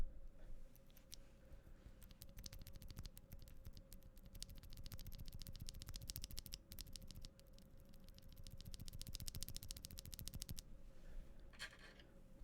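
A stock mechanical keyboard switch on an LK67 build clicks quietly under repeated presses, a fast run of light ticks and taps over a faint background hum.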